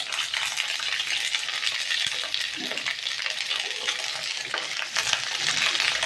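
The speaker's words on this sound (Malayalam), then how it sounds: "ഏറ്റവും ആദ്യം ചെയ്യേണ്ടത് വഴുതനങ്ങ വഴറ്റിയെടുക്കണം." Brinjal (eggplant) sautéing in a pan, with a steady, close hiss of frying and occasional scrapes and clinks as the pieces are stirred.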